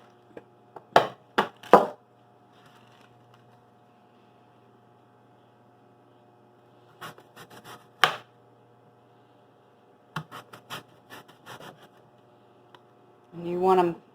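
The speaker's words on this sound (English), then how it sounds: "I'm going to go ahead and slice up my apples." A knife slices through apples on a cutting board, giving a few sharp chopping strikes in short bursts separated by quiet stretches, close and fairly soft.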